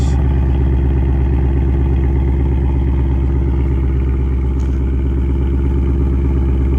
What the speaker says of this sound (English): Listen to that. Give it a little gas.